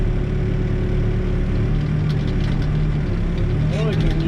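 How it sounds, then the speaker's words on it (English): An old Ford backhoe engine runs steadily in a low, even drone, loud and close throughout, with a person talking over it. "an old Ford backhoe"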